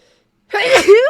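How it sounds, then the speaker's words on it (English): A single sharp sneeze bursts out after a moment of silence, close and loud. "I have to sneeze."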